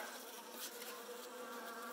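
Saskatraz honeybees buzz steadily during a package install, a dense, continuous hum of many wings close by with no voices.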